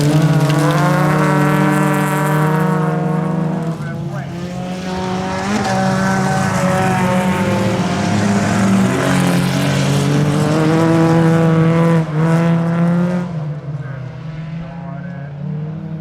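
Folkrace cars race around a dirt track, several engines revving and droning together loud and near, with pitch rising and falling as they accelerate and a commentator talking over the racing.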